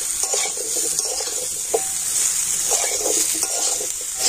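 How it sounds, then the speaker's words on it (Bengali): Raw mango pieces are stirred in hot oil in a pan for a sweet, sour and spicy pickle, with a constant sizzle under soft, repeated scraping strokes of the spoon and no speech. "আর এবার আমি আমটা তেলের সাথে অল্প একটু নাড়াচাড়া করে নেবো।"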